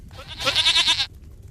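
A single goat bleats in a video game, one loud, wavering, nasal cry lasting under a second, followed by quiet background.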